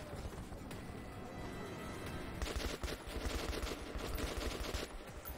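Rapid gunfire from the Metro 2033 video game, dense bursts of shots building and thickening midway through, loud and continuous over a dark rumbling backdrop.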